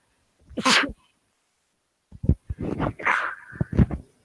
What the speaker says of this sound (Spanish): espérenme un ratito que voy a estornudar